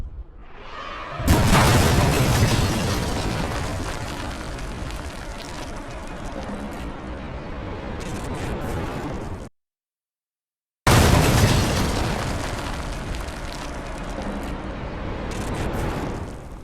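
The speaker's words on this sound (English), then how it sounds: "let's break down how the explosion actually unfolds" Explosion from the ending of the horror game Poppy Playtime Chapter 4: a loud boom bursts in, then a long roaring, crackling rumble. It cuts to silence briefly, then a second blast erupts and rumbles on.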